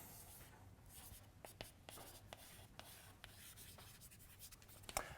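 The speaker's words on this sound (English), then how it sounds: "let me write that" Chalk or marker scratches and taps on a board during a physics lecture: soft, irregular strokes and clicks, faint and close, with room hiss between them.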